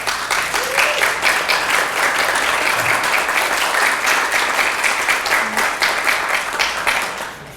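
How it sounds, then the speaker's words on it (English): Loud, full applause from a seated audience welcoming a guest scientist to a talk, a thick continuous roar of clapping lasting throughout with faint voices mixed in. "let's give her another round of applause"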